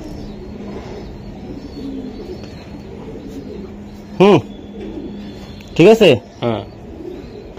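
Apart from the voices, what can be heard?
racing pigeons cooing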